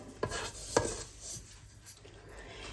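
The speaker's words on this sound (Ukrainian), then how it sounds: "і перемішую перемішую гарбуз" A spoon stirs pumpkin and sugar in a pot, with soft scraping and rubbing, a few sharp knocks against the pot early on, and quieter grainy shuffling after that.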